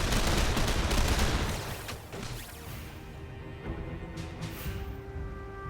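A barrage attack in The Lamplighters League game hits as a dense, loud roar of rapid impacts and gunfire-like bursts, easing into clattering hits and a lingering tonal hum.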